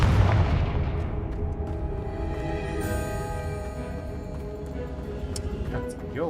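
A Confringo fire spell explodes in Hogwarts Legacy, a loud booming blast with a rumbling low body that rings out and decays over several seconds, with layered game sound effects carrying on throughout.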